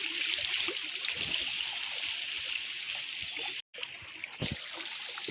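A river stream rushes and trickles steadily over rocks, a continuous close gurgling flow with one brief dropout.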